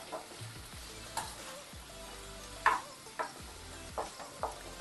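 Chandramukhi potatoes sautéing in a pan for a prawn and green pumpkin curry, with a steady low sizzle broken by a few sharp clicks and scrapes as they are stirred.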